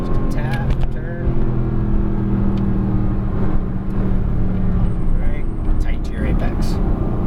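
A Mercedes-Benz AMG GT S on track with its engine droning steadily under load, then building as the throttle opens, heard from inside the car while an instructor talks over it.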